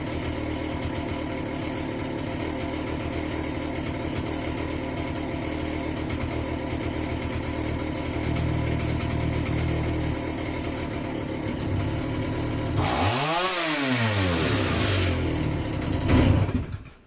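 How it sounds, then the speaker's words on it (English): A Stihl 028 chainsaw idles with a steady rough rumble, close and moderately loud, then the throttle is punched and the engine surges up into a sharp rising rev before settling. "Just gonna let it sit and idle, and then I'll just punch it and see what happens."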